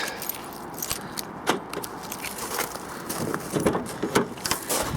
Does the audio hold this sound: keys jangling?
yes